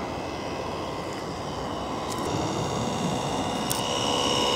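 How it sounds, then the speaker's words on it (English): The gearbox of a small robot boat whirs steadily with no windmill fitted, a continuous high mechanical drone nearby, joined by a couple of brief sharp clicks and no speech. "Sounds like the gearbox is running even without a windmill on it."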